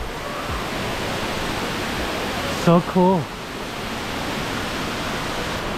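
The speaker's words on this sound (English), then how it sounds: "It's like too close to the waterfall." The indoor waterfall in the Cloud Forest conservatory at Gardens by the Bay, Singapore, roars loud and close as a constant broadband rush. A voice speaks briefly over it partway through.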